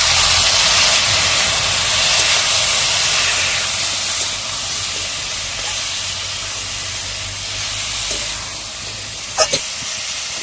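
Water splashed into hot frying spice paste for a light ridge gourd and bata fish curry hisses and sizzles loudly with a broad steamy rush that eases slightly over ten seconds, ending with a couple of brief clinks.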